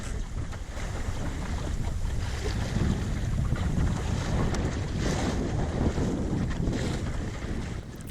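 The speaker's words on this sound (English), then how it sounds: "the wind has picked up" Strong wind blows steadily past a microphone aboard a Welsford Navigator sailing dinghy in choppy Plymouth Sound, a loud continuous roar with gusty surges and water rushing underneath.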